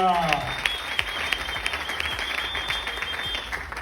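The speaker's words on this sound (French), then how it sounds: "Est-ce qu'on peut applaudir très fort pour ça?" An audience at a French-language business presentation claps after a call for applause, a brisk run of hand claps at moderate level after a short burst of the presenter's voice, with a faint steady tone behind.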